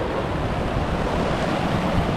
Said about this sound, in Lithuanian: Taip, matas krioklys.